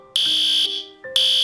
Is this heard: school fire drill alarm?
yes